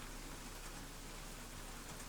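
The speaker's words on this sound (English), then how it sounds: "It started to rain." Video game rain falling as a steady, soft hiss of drops, faint and even throughout with no other sounds.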